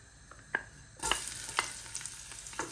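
Garlic hits hot cooking oil in a pot and bursts into a steady sizzle, with a few clinks and stirring sounds nearby.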